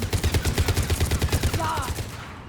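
Rapid, evenly spaced bursts from a pellet-throwing suppression gun in Mass Effect 3, loud and close, about a dozen shots in a steady rhythm before trailing off.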